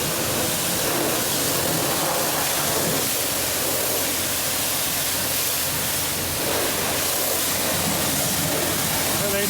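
A steady, loud water spray rinses a dirty truck, a dense hiss that holds unbroken from start to finish.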